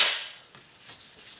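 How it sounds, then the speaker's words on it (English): Sandpaper rubs wet across a car headlight in a quick rasping stroke, followed by several softer, rhythmic scrubbing passes, close and fairly quiet. "This is like sandpaper that's meant to get wet as you're sanding."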